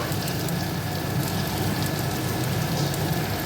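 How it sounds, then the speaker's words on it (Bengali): Potatoes fry gently in hot spiced oil, producing a steady, dense sizzle that stays loud and even throughout, close up and with no voices over it. "প্রথমে আমি আলুটাকে দেব, দিয়ে হালকা করে একটুখানি কষিয়ে নেব"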